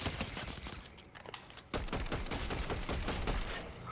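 Video game gunfight with suppressed pistols and an AR: a dense stream of muffled, rapid shots and clattering impacts runs continuously at moderate loudness, with no voices.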